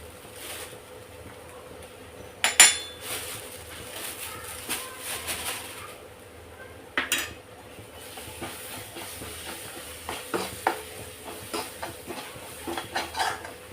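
Gram flour and green chillies frying in oil in a home kitchen give a soft, steady sizzle, broken by scattered scrapes and clinks of a spoon stirring against the pan.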